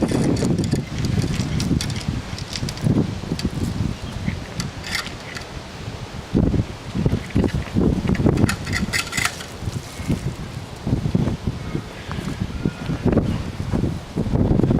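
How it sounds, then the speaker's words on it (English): Gusty wind buffets the microphone in uneven bursts by a pond, with rustling and rumbling throughout and no voices. "a pretty good view of a windy day"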